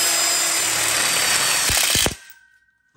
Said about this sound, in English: Now he's going to go underneath here and drill through 3 layers of steel.